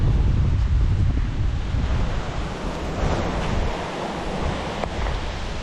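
Wind gusting across a field of cucumber plants, a steady, loud, roaring rush that buffets the microphone and rises and falls slightly, with no talk.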